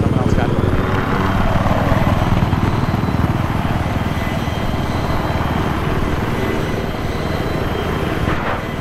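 A helicopter in the video game Battlefield 3 thrums continuously at close range, its low rotor and engine roar steady throughout.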